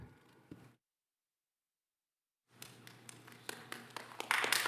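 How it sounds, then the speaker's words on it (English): Scattered clapping from an audience at a school district zoning advisory committee meeting, faint taps at first, then after a pause a growing patter of applause swelling toward the end. "no applause, please"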